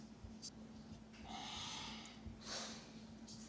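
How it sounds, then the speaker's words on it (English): A pug snorts and breathes noisily close by in a quiet kitchen, with a couple of raspy wheezing breaths and short snuffles against faint background hum. "if anyone out there has a pug, you know how loud they can be, just everyday breathing."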